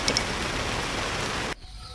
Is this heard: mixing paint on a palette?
no